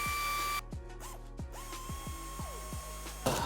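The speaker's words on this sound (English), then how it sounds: "drill those holes, and then place bolts in them" A power drill whirs in short bursts while drilling bolt holes for a Subaru WRX STI aero kit, its pitch sliding as the motor spins up and down several times in quick succession, fairly close.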